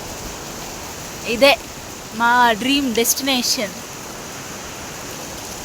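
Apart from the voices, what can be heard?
water flowing down from the mountains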